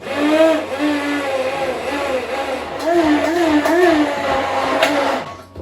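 A blender blitzes chickpea water, garlic and oil into vegan mayonnaise with a loud, steady motor whir, and a voice talks over it the whole time.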